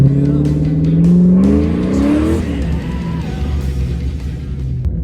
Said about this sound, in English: Ford small block, 306, aluminum heads, mild cam.